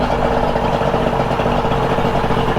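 A boat engine idles after running, a loud, steady low rumble with an even throbbing pulse that holds constant throughout, close to the microphone with no talking.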